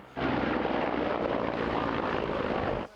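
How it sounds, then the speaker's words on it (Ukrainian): Ukrainian attack helicopters flying low in pairs near a front line, a loud, dense rotor and engine roar that swells in abruptly, holds steady close by for nearly three seconds, then cuts off. "українські ударні гелікоптери двійками летять бомбити позиції росіян"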